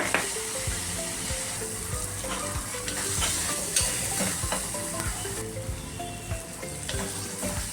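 Onion and tomato sizzle in a hot tempering while a spoon repeatedly scrapes and stirs the pan, producing a steady bed of frying hiss broken by rhythmic clinks and scrapes, close and alone.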